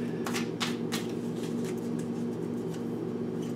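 A deck of tarot cards is shuffled by hand, with quick papery riffles and flicks close by, strongest in the first second and then softer, over a steady low background hum.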